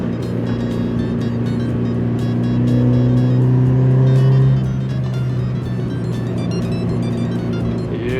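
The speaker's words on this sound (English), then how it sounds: "now with the muffler, it sounds really good" A Toyota 86 engine with a Rosso Modello aftermarket muffler drones steadily up close while driving, its exhaust note rising a little in the middle before settling back to an even hum.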